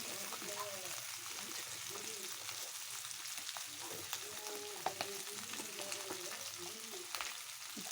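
Chicken frying with masala, chilli powder and spices in a pan makes a low, steady sizzle with light stirring, while a voice talks faintly over it.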